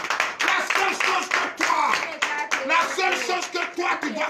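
A church congregation at a Thursday morning prayer service in Comè, Benin claps in acclamation to Jesus, a dense, steady patter of many hands close by, mixed with voices and singing throughout.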